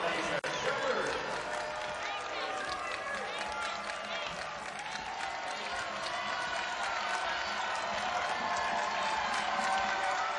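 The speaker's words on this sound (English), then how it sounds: "Fans rise to their feet here at Castle Coliseum, applauding the best start in program history for the Hokies in the ACC." Basketball fans at Cassell Coliseum in a Virginia Tech versus Clemson game, a sustained crowd roar with clapping and cheering filling the arena, steady and fairly loud.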